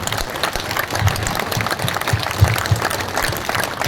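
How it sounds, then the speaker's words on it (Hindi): Loud, dense applause from a large standing crowd at a lecture on fighting corruption, steady throughout with clapping textures and no one speaking. "प्रत्येक व्यक्ति खड़ा होकर अपने स्थान पे खड़ा होकर जोरदार तालियां"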